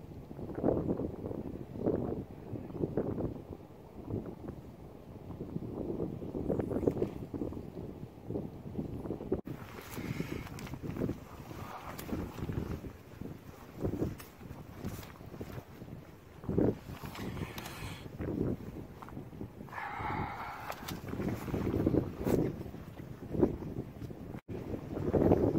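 Wind blowing across a lake during fly fishing at Meon Springs, buffeting the microphone in a steady, gusty low rumble that runs the whole time with no voices over it.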